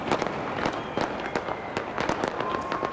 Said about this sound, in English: Fireworks, as you can see, lit up the skies behind the Sky Tower.